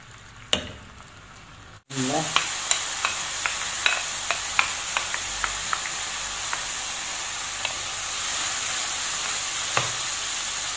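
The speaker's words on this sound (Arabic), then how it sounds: "نخلي الدجاج يتقلى شويه في الزيت" Chicken and onion fry in oil in a pan, giving a steady close sizzle with scattered small pops and crackles after a brief break at the start.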